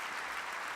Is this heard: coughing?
no